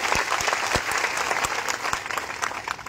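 Applause from a crowd at a Banjara community rally, a steady dense clapping wash throughout with a few sharper individual claps standing out near the front.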